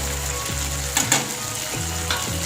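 Ground cumin, turmeric, chilli and coriander powders fry in oil with salt, giving a loud steady sizzle up close, broken by a few stirring scrapes and clinks.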